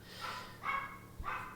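A dog barks three times in a row somewhere indoors, muffled and a bit distant, with short, even gaps between the barks and no voices over them.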